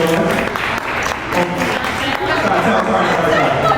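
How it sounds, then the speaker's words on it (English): A crowd at a brunch mixer event applauds a bar owner, clapping mixed with chatter and voices, fairly close and steady throughout. "let's give her a round of applause"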